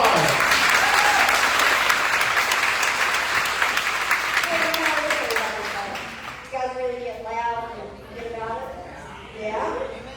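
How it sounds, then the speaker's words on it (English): An audience at a Southern Indiana town hall breaks into loud, steady applause that gradually thins out, with a person starting to speak as the clapping fades. "Give them a warm round of applause."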